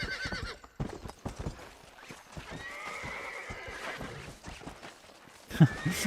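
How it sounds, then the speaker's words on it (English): Horse hooves clip-clop and a horse neighs in the Western video game Red Dead Redemption, with steady hoofbeats throughout and a whinny rising near the middle, heard alone without talk. "I want to ride this horse."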